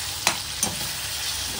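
Tomatoes and onions sizzle steadily in a pan for pav bhaji, a close, even frying hiss with two soft stirring scrapes near the start.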